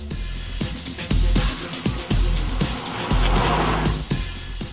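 An Alfa Romeo MiTo with stiff suspension zips along country roads, engine revving loudly and close, with rhythmic gear-change surges and some tire noise throughout.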